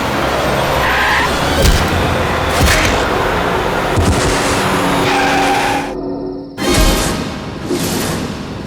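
A car skids loudly on a road at night, tires squealing in long smeared screeches under a roaring engine, close and harsh, cut by a brief silent drop before the noise resumes.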